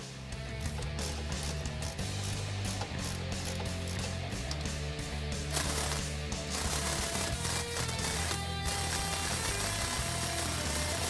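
Exhaust bolts on a Roush axle-back quad-tip exhaust for a 2015–2017 Mustang GT being tightened, a loud close rapid ratcheting clatter running almost continuously with brief changes in pace.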